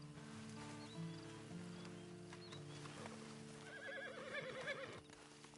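In Red Dead Redemption 2, a horse whinnies and its hooves clop softly nearby, with a faint steady background hum. The sound is quiet overall.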